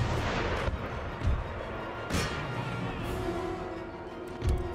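Howitzer artillery fire in the Napoleonic-era strategy game Empire Total War, set in a siege of Philadelphia: several deep, booming cannon blasts land at irregular intervals over a rumbling battlefield bed.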